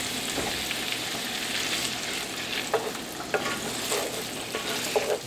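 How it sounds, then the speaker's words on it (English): Steady sizzle of Haitian spaghetti frying lightly in a cast iron skillet, with occasional scraping and stirring clicks, continuous and close. "in the cast iron skillet, you don't want it to fry real hard"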